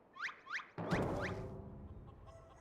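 Short chicken clucks from a creature in Final Fantasy XIV, two quick bright calls followed by a louder burst with a low rumble beneath, then fading game ambience.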